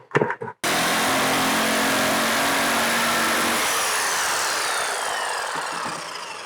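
After a few short knocks, a power saw starts and runs loud and continuous, its whining hiss easing slightly toward the end.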